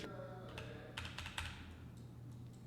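Several quick keystrokes on a computer keyboard while working in the Tinkercad 3D design app, clustered in a short burst mid-clip over a low steady hum, fairly close and moderately loud.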